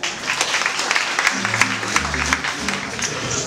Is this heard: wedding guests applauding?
yes